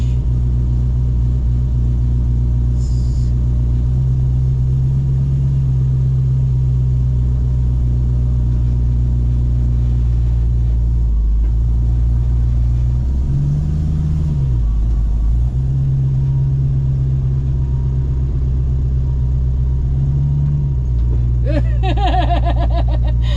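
A 1968 Ford Mustang Fastback with a manual gearbox pulls away after the clutch is released, its engine a loud, steady low rumble that swells slightly in pitch a few times as it gets going.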